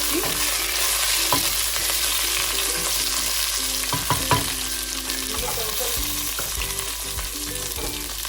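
Whole spices frying in hot oil in a pan for spicy fry piece biryani, a steady close sizzle throughout with occasional stirring scrapes and clinks.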